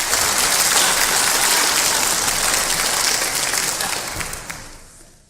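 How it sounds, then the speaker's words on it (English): Dense applause fills a church service as the congregation claps for departing kids, a steady wash of many hands that thins and fades away over the last second. "let's give an applause to our kids that are leaving."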